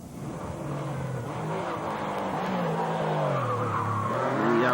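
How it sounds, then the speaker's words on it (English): A Porsche rally car competing in the 1997 Jersey Rally roars past with a loud, steady engine note that rises in pitch and volume as it accelerates, with some tyre squeal, and no talk over it. "The Porsche sounding superb."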